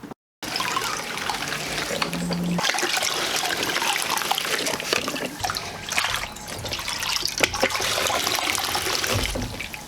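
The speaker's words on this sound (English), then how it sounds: "Let's fill up this bucket with water." Water pours steadily into a tile grouting bucket for several seconds, a continuous rushing, splashing fill after a brief click at the start.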